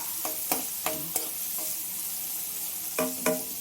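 Onion frying with urad dal and curry leaves for a radish palya cooked in coconut oil, a steady sizzle broken by several sharp spoon-scrapes and stirring clatters.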